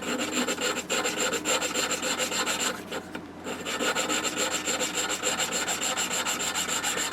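Steady rapid back-and-forth rasping of a three-stage grit sanding pad rubbing a part on a Mark 4 Golf, close and continuous with a brief pause midway, no talking.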